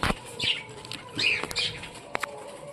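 Spangle rainbow budgerigars in a cage give several short chirps and warbling calls in bursts, close and fairly clear, with a few sharp clicks and light rustling between calls.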